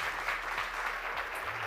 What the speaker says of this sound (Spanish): fuerte el aplauso para Daniel Castro, vení.